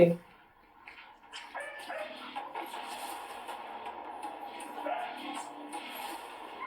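A dog barks and yips amid a busy background, with people talking over it throughout.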